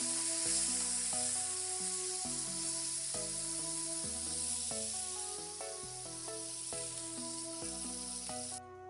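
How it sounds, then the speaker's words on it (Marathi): Cooked corn kernels go into a hot pan with melted butter for cheese corn. A continuous sizzling hiss runs underneath steady, louder background music until it stops near the end. "आता त्याच्यामध्ये शिजलेले मकाचे दाणे टाकूया।"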